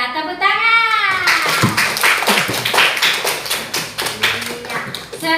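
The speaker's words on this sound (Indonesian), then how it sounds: "Iya, tepuk tangan." Classroom of students clapping hands together in a burst of quick, overlapping claps, loud and close, with a teacher's voice and children's voices at the start.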